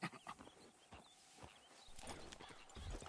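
Horse hooves clip-clop at a walking pace in Red Dead Redemption 2, faint and steady beneath soft outdoor ambience.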